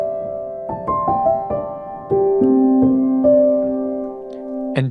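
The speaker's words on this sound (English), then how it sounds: "a simple piano sound like this" A simple, dry piano plays a short melody of sustained notes, each struck note ringing clearly over the previous ones, ending with a sharp chordal strike; no talking.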